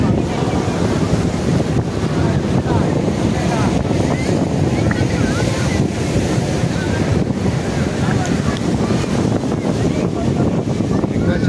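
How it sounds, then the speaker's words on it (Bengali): Ocean waves crash on the shore at Juhu Beach in Mumbai, a loud, unbroken roar of surf mixed with heavy wind buffeting the microphone, with voices faint underneath. "জলে কিন্তু ঢেউয়ের গতি প্রচণ্ড জোর আছড়ে পড়ছে কিন্তু তীরেতে"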